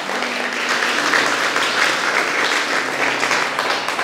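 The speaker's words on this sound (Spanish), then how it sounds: "Un fuerte aplauso para las ofrendas de este día." Strong, steady applause from a congregation at a Sunday Catholic Mass, greeting the day's offerings; dense clapping fills the whole stretch evenly without pause.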